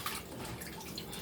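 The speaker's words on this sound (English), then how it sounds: "I know you can know it because you hear my water running." Tap water runs steadily over raw chicken being washed in a kitchen sink, a continuous hissing, splashing stream that stays close and even throughout.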